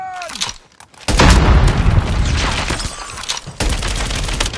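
A grenade blast followed by rolling gunfire in a first-person shooter game using a PeaceKeeper MK2, a loud booming burst with sustained crackling shots close up, no talking.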